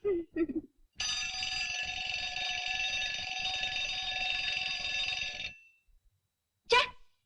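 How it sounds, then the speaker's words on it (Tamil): A continuous electronic ringing blares for about four seconds, bracketed by short bursts of voice before and after. "நான் தான் அலாரம் வச்சேன்"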